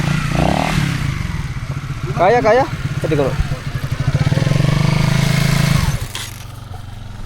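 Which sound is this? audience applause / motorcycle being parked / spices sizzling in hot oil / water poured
motorcycle being parked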